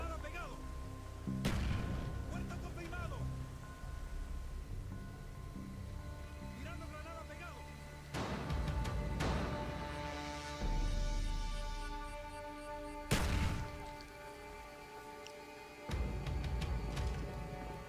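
Thrown Semtex grenades explode in a video game on a villa map, giving several loud, sharp booms spaced a few seconds apart with rumbling decay between them, under background game ambience.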